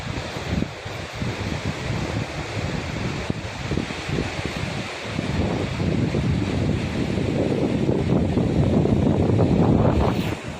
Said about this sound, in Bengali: মন্দারমণি সমুদ্র সৈকতে চলে এসেছি।